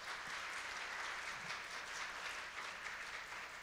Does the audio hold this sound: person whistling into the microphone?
no